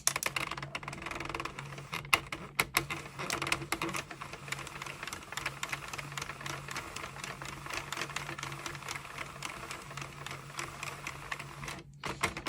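A Sentro knitting machine cranked around by hand to reach the last pin, giving a steady run of close, rapid plastic clicks and rattles with a brief pause near the end.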